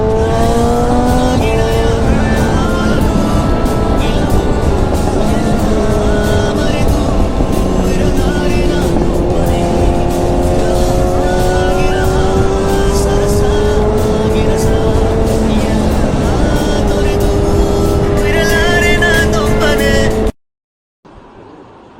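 A Yamaha R15 V3, a 155cc liquid-cooled motorcycle, runs at high speed with a loud, sustained engine whine that climbs through the gears, then cuts off abruptly near the end.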